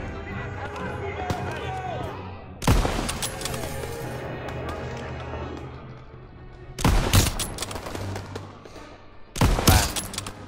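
Gunfire in the Call of Duty WW2 campaign, three sharp loud bursts of shots during an ambush mission, with game voices talking and battle sounds continuing between the volleys.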